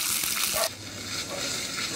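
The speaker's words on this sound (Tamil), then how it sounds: "தாளிப்பு கரண்டியில் வந்துட்டு எண்ணெய் ஊற்றி, கடுகு, உளுந்தம்பருப்பு போட்டுட்டு, கடலப்பருப்பு, கருகப்பிள்ளை போட்டு தாளித்து" Hot oil in a small tempering ladle crackling with mustard seeds, urad and chana dal and curry leaves, a loud hissing burst that drops abruptly after a moment into a softer sizzle, close by.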